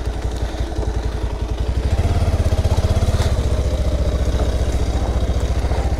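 A motorcycle is ridden along a rough hillside path, its engine chugging loudly and steadily with a fast, even pulse and rattling clatter, close to the microphone throughout.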